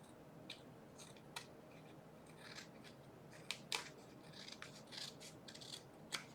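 Scissors snip through designer series paper while trimming a piece for a handmade card, a series of soft, close, irregular crisp cuts spaced through a quiet room.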